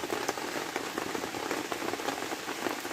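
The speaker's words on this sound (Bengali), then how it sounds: "কড়াটা বসিয়ে গরম করে নিয়েছি আমি এতে সাদা তেলটা দিয়ে দেবো" White cooking oil hits a hot wok in a dense, crackling sizzle that sounds much like steady rain. It stays close and even for the whole moment.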